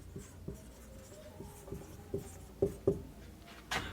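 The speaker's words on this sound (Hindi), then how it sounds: "मैं यहाँ पे लिख दे रहा हूँ" Chalk or marker strokes on a board during a computer class lecture, a series of soft scratchy taps and short strokes in an uneven rhythm, close and fairly quiet, with no speech.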